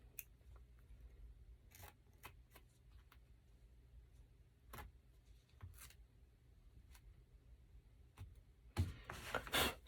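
Scissors snipping away loose threads sticking up from a fabric applique, heard as a series of sharp, scattered clicks and snips, close but quiet over a low background hum.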